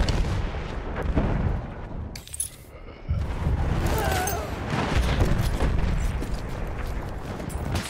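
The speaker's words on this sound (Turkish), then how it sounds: "Orada bir makinalı tüfek var." Bursts of gunfire and distant booms fill a Battlefield 1 battlefield during the Cape Helles operation, a machine gun rattling amid continuous combat noise with a brief lull midway.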